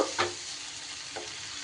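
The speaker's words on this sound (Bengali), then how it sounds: "এবার খুব ভালো করে আমাকে কষিয়ে নিতে হবে যতক্ষণ না আদা রসুনের গন্ধ যাচ্ছে ততক্ষণ পর্যন্ত" Ginger-garlic masala sautéing in a pan, a steady low sizzle with a couple of brief spatula scrapes, close and fairly quiet, no voices.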